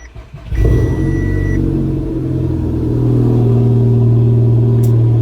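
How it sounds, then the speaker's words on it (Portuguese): A car with keyless push-button ignition cranks and its engine catches, settling into a loud, steady close-up idle rumble, with a brief electronic tone as it starts. "dá um clique, ele vai ligar a ignição"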